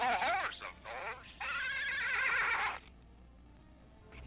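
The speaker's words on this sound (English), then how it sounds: "I'm a horse, of course." A horse puppet character's whinny, given in a puppet show during a 1966 kindergarten class, rises loud and wavering after a brief spoken voice, then drops away to quiet room noise.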